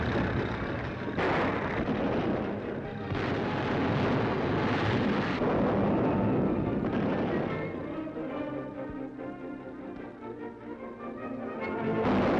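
Artillery guns firing in a 1941 Soviet wartime film about resisting the German invasion: repeated heavy booms blend into a dense, continuous roar of battle, loud and sustained throughout.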